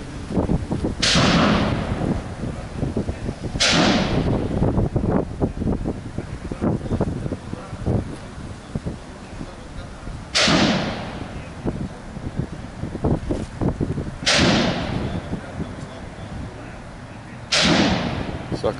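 Gunshots ring out at a shooting range, five sharp, loud reports spaced a few seconds apart over wind buffeting the microphone and nearby rustling.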